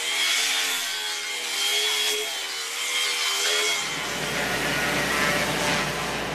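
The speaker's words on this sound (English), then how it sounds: "next we just take our grinder and start cleaning these up" A handheld grinder works over log surfaces for king-size log furniture, a loud continuous whine and rough abrasive roar that shifts in tone partway through, with no voices.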